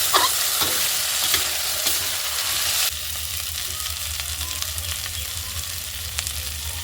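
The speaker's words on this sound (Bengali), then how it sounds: "এখন আরও 1-2 মিনিট ভেজে নেব মশলাটাকে।" Spice paste frying in a pan with turnip and potato for a cauliflower curry, a steady close sizzle with stirring scrapes throughout, the hiss dropping a little partway through, no voices.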